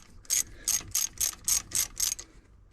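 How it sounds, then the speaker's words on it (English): A ratchet tightens the bolts on the thermostat cap of an Autozam AZ-1, giving seven quick, close bursts of metallic clicking in an even rhythm. "I'm gonna tighten this thing back down too."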